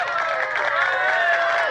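Short burst of studio audience applause and cheering, a dense crowd clapping at moderate loudness, close and steady for under two seconds.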